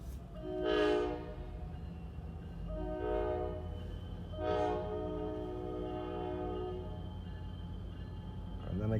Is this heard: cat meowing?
no